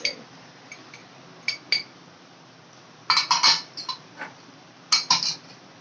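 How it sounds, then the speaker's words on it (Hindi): Metal spoon clinking against a pan while stirring a chili and onion mixture for mirch ka thesa, with sparse scattered clinks and a few quick clusters of taps, close and fairly soft, no talking. "अब इसको फ़ौरन से इसको चम्मच इस पर चलाते जाना है ताकि ये अच्छे से मिक्स हो जाए"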